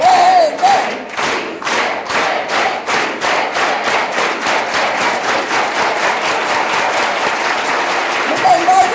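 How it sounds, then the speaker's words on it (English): A crowd at a César Chávez celebration claps in a steady, organized rhythm, loud and evenly spaced beats building together, with shouted chanting rising briefly near the start and end. "let's do it with an organized hand clap"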